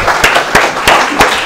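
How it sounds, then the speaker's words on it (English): An audience at an open-source technology conference talk claps in a steady, evenly spaced rhythm of sharp, close claps over a soft room murmur, with no speech. "So you guys all deserve a round of applause for coming today."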